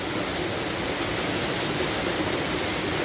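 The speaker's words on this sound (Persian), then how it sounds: "آب آبشارها در رودخانه روان است." Waterfall water pouring into a river at the Haft Abshar falls, a steady loud broadband rushing roar with no pauses and no voices.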